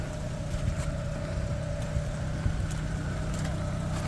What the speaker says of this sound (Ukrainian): Заведений двигун зараз.